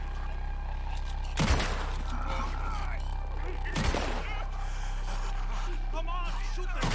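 Gunfire in Red Dead Redemption 2 during a shootout with guards, two loud sharp shots standing out over a steady bed of game ambience and music.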